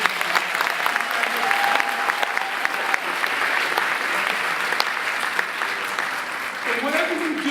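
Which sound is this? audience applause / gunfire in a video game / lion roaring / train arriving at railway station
audience applause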